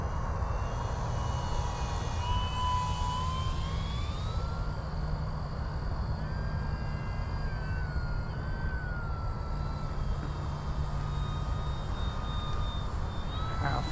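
Arrows Bigfoot 1.3m STOL RC plane flying landing approaches, its electric motor giving a steady whining drone with slowly gliding pitch changes throughout, loud and continuous over windy outdoor background noise.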